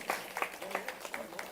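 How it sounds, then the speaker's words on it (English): A conference audience gives a round of applause as the Iron Lady is honoured, with faint, distant claps in a steady rhythm coming from a small part of the hall. "A huge round of applause for the Iron Lady"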